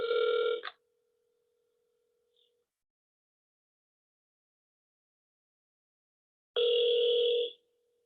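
Two long ringback tones of a telephone call ringing out unanswered, separated by about six seconds of silence, clear and steady.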